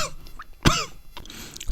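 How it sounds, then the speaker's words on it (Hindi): A single sharp cough followed by a fainter second one, close and fairly loud against a quiet background with no speech. "खांसी ज़्यादा आ गई थी"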